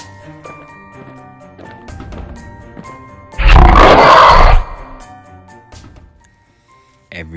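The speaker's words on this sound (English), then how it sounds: "the roars became louder and louder" A growling creature lets out a single loud, rough roar lasting about a second, bursting out of a quiet, sparse background of soft taps and thuds.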